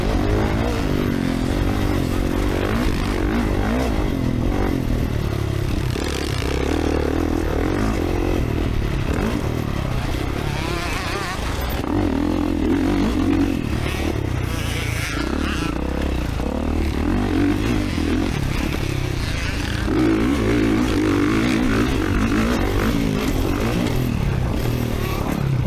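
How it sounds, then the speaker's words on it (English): A 2024 Kawasaki dirt bike runs practice laps on a motocross track, its engine droning and revving continuously with clattering suspension thumps on landings, heard from a moderate distance throughout. "it just sounds like he's going to snap that shock right in half every time he lands"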